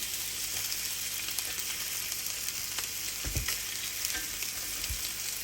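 Sausages fry in a pan with a constant close hiss and crackle, broken by a few soft thuds of turning or prodding, and no voices.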